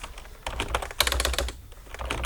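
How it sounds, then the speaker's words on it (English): Computer keyboard arrow keys pressed in quick, irregular clusters of crisp clicks while text is moved around in a Word document, close and fairly loud with no talking. "I'm using the arrow keys in order to move this around very easily"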